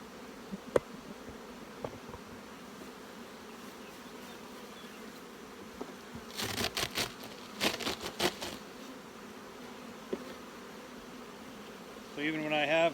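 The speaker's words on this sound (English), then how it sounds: "make sure all the bees get inside the hive" Honeybees buzzing as they are shaken from a shaker tub into a hive: a faint, steady hum with a few louder, closer swells of buzzing partway through.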